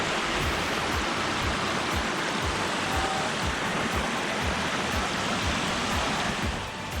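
Waterfall at Twin Falls, reached by a lakeside hike, pours in a steady, dense roar of falling water, loud and close, continuous throughout with no voices.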